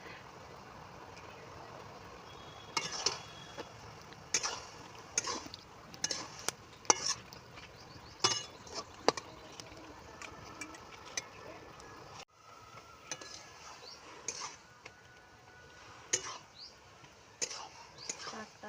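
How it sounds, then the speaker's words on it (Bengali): Salted bottle gourd being stirred in a pan as it cooks in its own juices: soft scraping and clinking strokes come in irregular bursts, with faint sizzling and a quiet voice now and then. "লবণটা দেওয়ার পরে এটাকে আমি নেড়ে নিচ্ছি"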